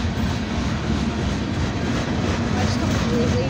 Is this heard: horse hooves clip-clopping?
no